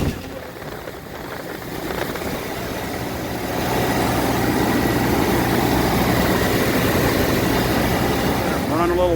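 A 1986 Jeep Comanche engine running steadily at idle after fuel tank repair, a close continuous rumble that grows slightly louder partway through and holds even to the end.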